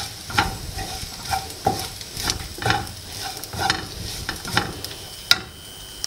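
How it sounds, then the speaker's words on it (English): Desiccated coconut and onions dry-roast in a pan, with a steady run of scraping stirring strokes about every half second, close and fairly soft. "Now I'm going to add this desiccated coconut with the onions and roast it till it becomes brown again."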